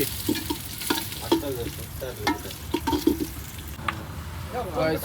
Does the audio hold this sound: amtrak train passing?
no